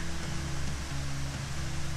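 The waterfall at Hidden Falls, reached by a short hike in North Carolina's Piedmont region. A steady, dense rush of falling water fills the whole clip, loud and close, with no voices.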